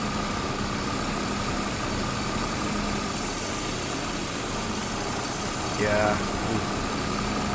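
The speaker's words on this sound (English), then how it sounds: "So I'm gonna have to adjust the throttle." A farm vehicle engine idles steadily in a farming roleplay game, a constant low drone throughout with a short rise partway through, while a person speaks briefly over it.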